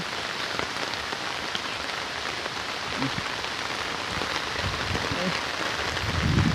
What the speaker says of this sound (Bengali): দেখতে পাচ্ছেন মুষলধারে বৃষ্টি হচ্ছে